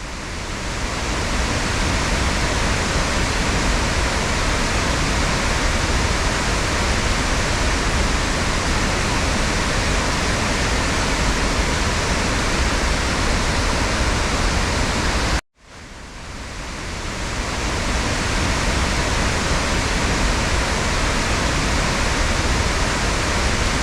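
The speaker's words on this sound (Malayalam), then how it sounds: "ഇവിടെ റാഞ്ചി ജില്ലയിൽ തിമാറ വില്ലേജിൽ ദാസം ഫാൾസ് എന്നറിയപ്പെടുന്ന ഒരു വെള്ളച്ചാട്ടമുണ്ട്" Dassam Falls, a waterfall in Timara village in Ranchi district, Jharkhand, roars in a loud, unbroken wash of water, cut off for a moment midway before the roar resumes.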